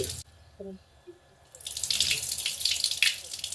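Split moong dal is washed in water, starting with a few faint clicks and quiet handling, then a steady running rush of water and sloshing that grows louder and continues to the end.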